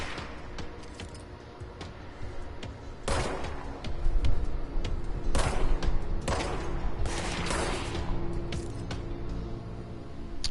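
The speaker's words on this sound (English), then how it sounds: "apparently I could just stand up here and shoot people" Rapid gunfire from shooting people in an action video game, with loud clustered bursts and volleys that repeat irregularly over a steady background.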